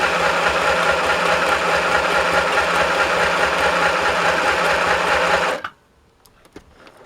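A portable sewing machine stitches a decorative pattern with the foot pedal pressed, giving a steady, loud mechanical whir and rapid needle chatter that runs for about five and a half seconds, then cuts off into near silence.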